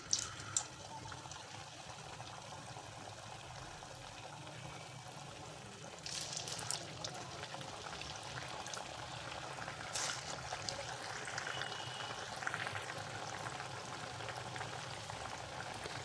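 Sabudana vadas deep fry in hot oil over full flame, a steady bubbling crackle running throughout with brief louder bursts of frying, no voices.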